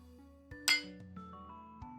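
Glasses clink together in a single bright toast, a short ringing chime followed by a few softer taps and knocks against a quiet background, with no talking.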